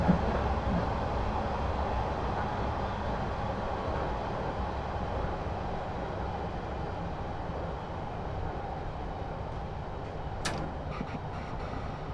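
A London Underground Metropolitan Line train runs between Amersham and Baker Street, its steady close rumble continuing throughout, with a brief sharp burst near the end.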